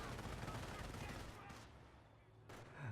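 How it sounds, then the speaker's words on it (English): StuG assault guns firing in Company of Heroes combat, dense rumbling bursts of gunfire and explosions with a couple of sharp later blasts, fairly faint in the mix. "it's taking some really devastating fire from those Stugs"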